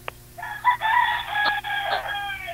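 A rooster crows once, loud and close: a short cluck, then a drawn-out cock-a-doodle-doo lasting about two seconds.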